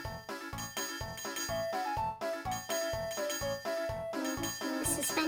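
A bell rings repeatedly at the bazaar in Harvest Moon DS, a bright bicycle-style ding struck in a rapid, steady series over upbeat game music, clear and close.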